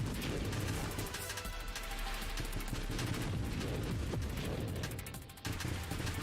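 Missiles launch in a Nova Drift space shooter as a rapid, steady barrage of crackling shots over a low rumble, faint and continuous with small bursts of booms, and no talk.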